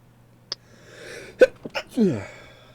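A single close sneeze, a short sharp burst, followed by a brief spoken reply in a quiet room.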